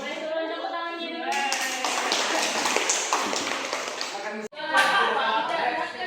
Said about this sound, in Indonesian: boleh turun tepuk tangannya dulu